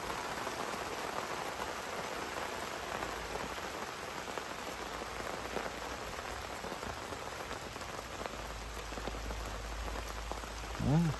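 Rain pours steadily during a thunderstorm, a dense, even patter on surfaces that fills the whole stretch, with a short rumble of wind right at the end.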